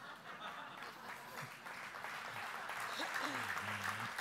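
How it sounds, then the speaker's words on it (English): Applause from a room of sportscasters at an awards gathering, a steady wash of clapping heard fairly quietly under voices and a few chuckles throughout. "All of those applauding are sportscasters"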